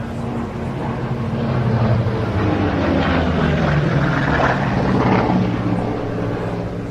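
A Corsair propeller fighter flies past at the Jersey International Air Display, a loud, rough droning engine roar that swells and fades across the sky for several seconds, heard alone without talk.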